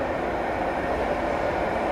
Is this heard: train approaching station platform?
yes